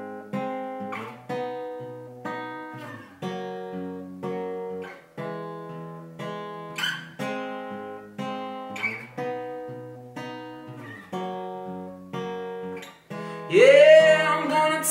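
Acoustic guitar strums a steady four-chord country-rap progression, even strokes repeating alone and close, with a brighter flourish near the end.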